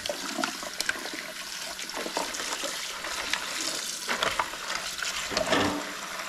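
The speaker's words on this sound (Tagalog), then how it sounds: "Tapos hugasan na. Isasalain dito." Washed vegetables being rinsed and strained in water while cooking ginataang kalabasa, a continuous close splashing and trickling of water with faint sloshing throughout.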